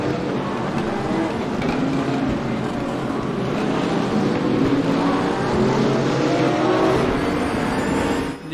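Rear-engine Porsche GT3 racing on the Nordschleife in the Raceroom video game, a loud sustained engine drone with shifting revs and gear changes, other cars audible in the pack, no voice over it.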